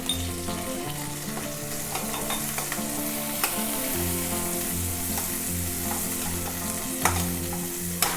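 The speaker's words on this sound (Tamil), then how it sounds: "ஒரு 2 நிமிஷம் வதங்கட்டும்" Onion with mint leaves, coriander and turmeric powder sautés in a pan, a loud, close, continuous sizzle broken by the scrape and clack of a spoon stirring. There is no talking.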